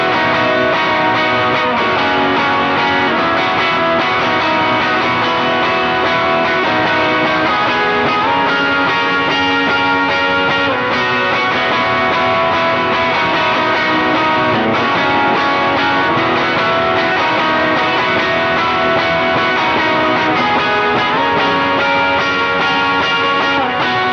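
Electric guitar played through a Strymon Iridium amp modeler with drive and reverb, producing sustained, distorted notes and chords that ring out continuously for the whole stretch, with no talking.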